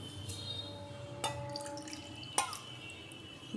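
Water is poured onto sugar in a pan to make a syrup for balusahi sweets, heard as faint, soft dripping and trickling with two brief splashes in a quiet kitchen.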